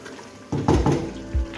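Water poured into a pan of aloo gosht curry once the spiced masala has released its oil, brief splashing gushes in a few close bursts.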